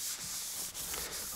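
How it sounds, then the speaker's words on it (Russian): A cloth wipes across a car door panel to degrease it before primer in a body repair shop, giving a close, steady rubbing hiss in short strokes with no talk. "Поэтому обезжириваем."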